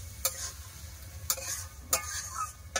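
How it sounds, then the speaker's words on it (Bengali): Spices and chopped tomato sautéing in hot oil for a Bengali katla fish kalia, with a steady soft sizzle and three sharp stirring scrapes spaced about a second apart, close and fairly quiet. "টমেটো সব মশলা খুব ভালো করে কষে নেব"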